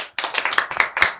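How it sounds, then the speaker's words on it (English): Applause for a panel of speakers at a televised political discussion, a short burst of dense clapping that starts abruptly after a brief pause and runs steadily to the end. "Ladies and gentlemen, a round of applause for our panelists."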